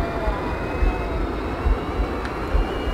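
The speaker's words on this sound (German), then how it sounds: "Endlich habe ich mein eigenes Flugzeug hier." A propeller or jet aircraft engine in the Halo video game, a steady droning hum with faint rhythmic low pulses, heard up close without speech.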